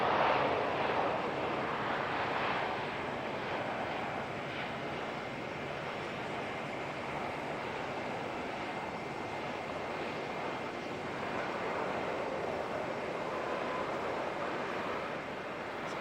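A Qantas airliner inbound from Sydney approaches Auckland Airport in fog, its engines a steady, distant broadband roar spread evenly through the whole stretch, with wind-like rushing and no talk.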